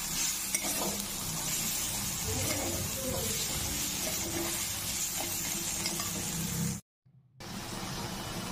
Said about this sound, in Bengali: রসুন দেওয়ার পর আরও 2 মিনিট ভালো করে সাতলে নেব।